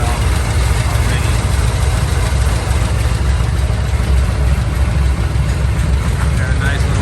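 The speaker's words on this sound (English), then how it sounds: "Got a nice little idle to it." A 1948 Mercury wrecker truck's engine idles steadily and loudly up close, a continuous even rumble with no breaks.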